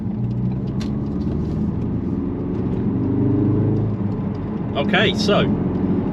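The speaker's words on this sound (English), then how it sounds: "We're just taking it for a little test drive" A Ford Focus RS MK3 out on a test drive, its engine and road noise a steady low rumble from inside the cabin, with a person talking briefly over it.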